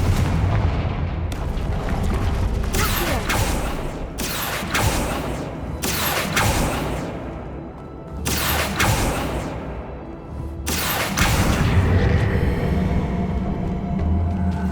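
Confringo spell blasts in the video game Hogwarts Legacy, a series of heavy booming explosions at irregular intervals, each with a sharp crack and a rumbling tail, loud and close with no talking.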